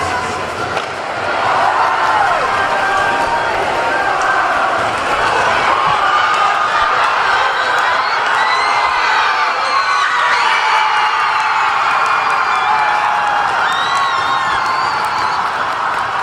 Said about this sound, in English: You could hear the pop of the crowd just exploding